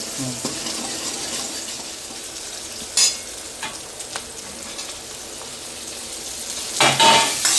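Chopped onion, green chili and five-spice seeds fry in oil in a pan with a steady close sizzle. Scraping stirs break through now and then, with louder clatter near the end, and no voice is heard.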